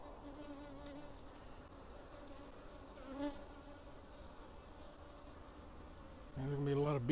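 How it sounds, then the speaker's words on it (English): Steady, dense buzzing of many honey bees inside a hive, a continuous droning hum that swells louder near the end. "There's a bunch of bees in here."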